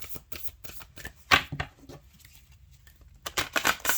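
Lantern Oracle cards are shuffled by hand in quick riffling bursts, crisp close flutters and taps with short pauses between, quiet and without talk.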